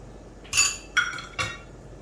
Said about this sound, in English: Then overturn it with a chopstick.